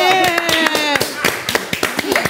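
An audience claps in a steady patter of hands, fairly close and loud, mixed with a few cheering voices and some sung or shouted tones at the start.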